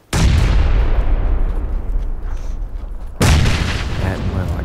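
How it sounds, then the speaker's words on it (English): Two heavy booms from a grenade explosion in the battle royale game PUBG, the first blast decaying into a long rumble before a second loud burst hits, close and dominant. "I got hit by that grenade."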